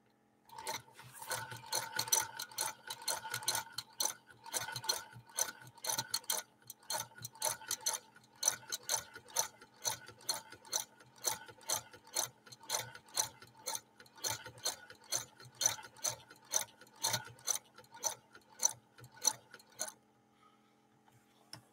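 A 1948 Frister & Rossmann long-shuttle sewing machine stitching, with a steady, fast rhythmic clatter of needle and shuttle strokes running close and continuous for about twenty seconds before stopping.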